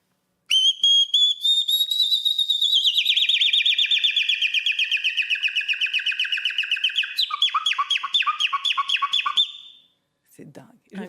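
A man whistles a long, rapid imitation of nightingale trills, loud and close, sliding through fast pulsing warbles and ending with a few brief sounds afterward.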